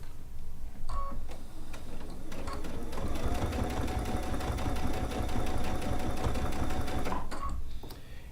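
Sewing machine with an open-toed foot stitching a folded binding edge, a steady fast whirring run of needle strokes for several seconds, starting and stopping with brief pauses, close and alone.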